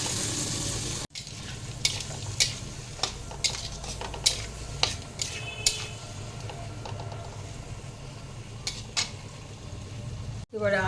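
Masala of coriander powder, cumin powder, sugar and a splash of water frying in a pan, a steady sizzle broken by sharp scrapes and taps of a stirring utensil against the metal, with a brief cut at the start and end.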